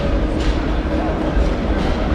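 A traditional Basel tram rolls past on the main square, a loud, continuous low rumble of wheels on rail with a faint rhythmic clatter, close by and filling the whole moment.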